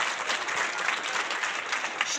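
A school crowd claps loudly and steadily for the winning student election candidates, a dense, even burst of applause lasting a couple of seconds.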